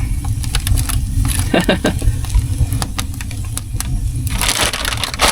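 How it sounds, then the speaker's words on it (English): Steady crackling and sizzling from a campfire in a cave shelter, with scattered sharp pops over a constant low rumble, close by. "I can hear that thing sizzling now."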